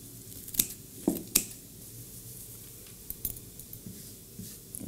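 Scissors snip through fresh herbs for a Tuscan herb salt, giving a few quiet, sharp clicks spread over a few seconds against a soft background hush.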